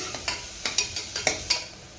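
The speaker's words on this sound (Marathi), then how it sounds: "त्याला मस्त मोहरी, जिरं, कढीपत्ता याची खमंग फोडणी द्यायची" Mustard seeds, cumin and curry leaves temper in hot oil for a mixed sprouted-legume curry, a soft sizzle broken by about eight rhythmic stirring scrapes and spoon taps close by.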